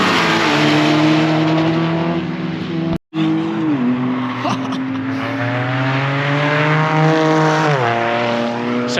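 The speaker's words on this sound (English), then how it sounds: "This one, I think it's supercharged or turboed or something. Sounds nuts." Supercharged or turbocharged supercar lapping Knockhill race circuit in a supercar battle: a loud, close engine wail that climbs through the revs, cuts out for a split second at a gear change, then rises again, with tyres squealing faintly.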